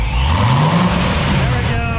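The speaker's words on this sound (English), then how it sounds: "Give it a little bit of a rev." C7 Corvette V8 fitted with cheap headers, revved in a short, loud, throaty rise and fall close by.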